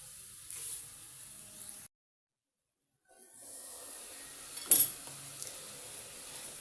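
A test piece of mandazi dough sizzles in hot oil, a soft steady hiss that drops out into silence briefly, then returns with one sharper spatter burst near the end.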